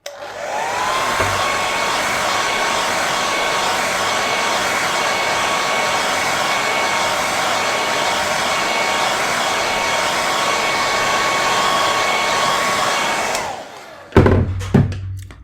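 A hair dryer blows steadily on a wet watercolour painting, a loud continuous whirring drone that runs for most of the clip before switching off, followed by a few brief knocks and handling sounds.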